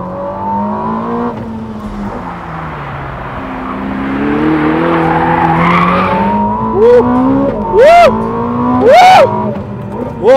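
A Ferrari SF90 XX circles a race track warming up its Cup 2R tires, engine droning steadily with rising and falling revs, then sharp rising whines and squeal-like bursts near the end; no speech.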